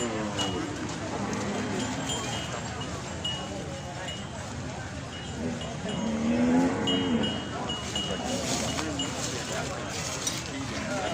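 Water buffalo lowing at a Thai livestock gathering, a drawn-out low moo rising midway above a steady crowd murmur, with people talking throughout and a faint cowbell clink.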